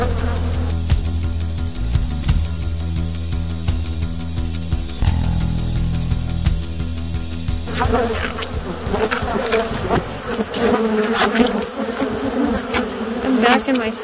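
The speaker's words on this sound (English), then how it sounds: "I don't even think our suits got this covered through holy shit bees." A swarm of Africanized killer bees being worked by beekeepers in Arizona, buzzing loudly and continuously close to the recorder; the dense drone shifts in pitch and texture as the insects swirl, with no talking heard.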